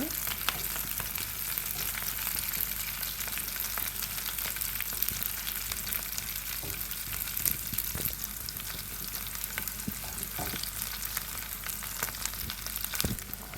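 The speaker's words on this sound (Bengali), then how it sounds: "এখানে পেঁয়াজ কষি, কাঁচামরিচ কষি সবগুলো তেলের মধ্যে অ্যাড করে নিলাম। এরপরে এগুলো একটু নাড়াই চাড়াই দিব।" Chopped onions and green chilies frying in oil, a dense continuous crackling sizzle throughout with scattered spatula scrapes from stirring, close and steady without voices.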